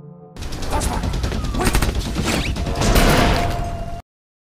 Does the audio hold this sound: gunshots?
yes